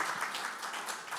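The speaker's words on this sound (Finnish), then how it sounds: "Annetaanpa suuret aplodit Rafille." Brief burst of audience clapping at a church gathering for pastor Rafi Shimon, fairly faint and distant, a short patter of many hands.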